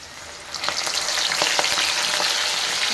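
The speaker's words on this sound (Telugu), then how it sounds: "నూనె అయితే కాగింది. ఓకే, 2 ట్రిప్పులు వేయించుకుందాం" Sweet corn kernels fry in hot oil with a steady, loud sizzle that swells after a quieter start, broken by brief crackling spits and pops, with no talking.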